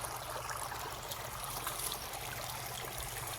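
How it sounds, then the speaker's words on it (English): Spring water gushes from a hole in the rock during a walk in the woods, a fairly faint, steady bubbling trickle that runs continuously and unbroken. "I can actually see water gushing from a hole in the rock."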